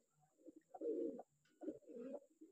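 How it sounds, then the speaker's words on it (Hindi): Pigeons coo softly in low, throaty rolling phrases, two or three calls close together in a quiet setting. "ये देखिए सारे कबूतर परदार हैं, आराम से मज़े कर रहे हैं"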